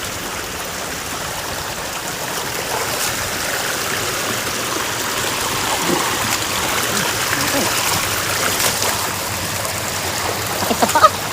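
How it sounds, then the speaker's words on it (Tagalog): Handuan Falls, a waterfall in Clark, Pampanga, pours in a constant broadband rush of splashing water, steady and close, while people talk faintly over the roar. "So, nasa falls na kami. Handuan Falls."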